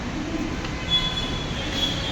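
A metro train at a station in India, a steady loud rumble of the carriages with high metallic wheel squeals rising over it, heard up close with no voices.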